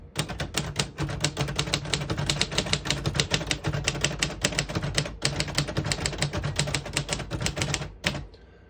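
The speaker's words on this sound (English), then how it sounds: "Very nice typing machine." Rapid, steady typing on a 1951 Royal Quiet De Luxe portable typewriter, with dense, loud key strikes hammering in quick succession for several seconds before stopping abruptly, alone with no talk.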